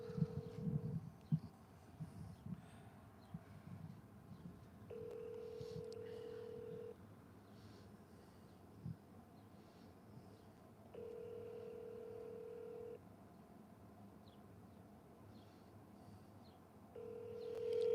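A telephone rings out unanswered on a call to the Groton police, with regular long ring tones repeating at steady intervals under faint background noise and brief talk.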